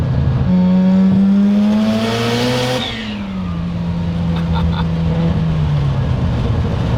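A twin-turbo Mazda RX-7 FC rotary engine revs hard up to a screaming peak, then drops back to a lumpy, burbling idle. It is loud and close, with no talk over it.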